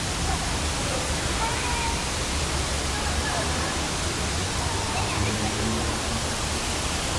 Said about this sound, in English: Various waterfalls.